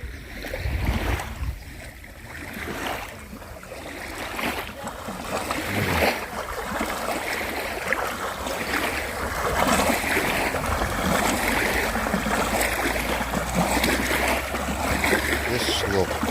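Waves washing on a lake beach at a children's camp, a continuous broad rush of water and surf that swells and recedes, with wind and people talking in the background.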